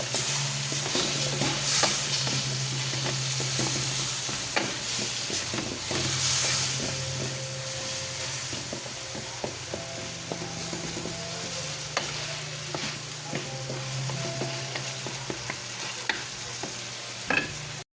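Sweet potato going into a hot pan of cooked tomato for pinakbet, with a steady sizzle and hiss under close, repeated stirring scrapes and light knocks.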